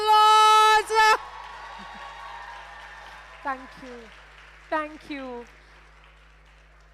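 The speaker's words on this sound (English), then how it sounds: "can we get another round of applause?" At a live corporate speaking event, a woman gives brief thanks, then a faint crowd applause lingers beneath scattered whoops and cheers from the audience.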